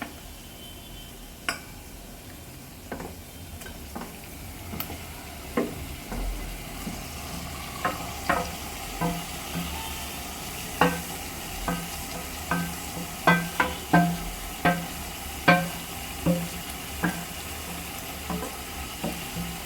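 Marinated mutton for biryani sizzles in hot oil while it is stirred, with a constant frying hiss and many sharp knocks of a spoon against the pot, coming faster as the stirring goes on.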